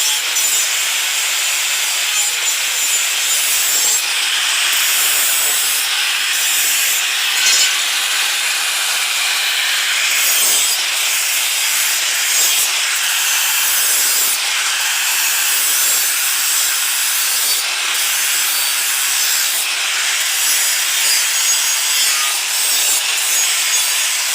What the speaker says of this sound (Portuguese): agora vamos lixar ela para ver se ela fica melhor a solda